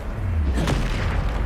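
A Bombarda spell explosion in Hogwarts Legacy lands as a single loud, deep boom against a heavy low rumble, with only a brief trace of voice.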